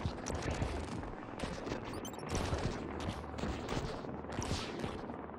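Missiles launching in the arcade base-defense roguelike Utopia Must Fall, a dense, continuous barrage of crackling bursts and thumps with no pauses, loud and close throughout.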